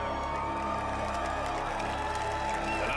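Crowd cheering and whooping steadily throughout, a dense, lively wash of many voices at moderate loudness, with shouts rising above the din.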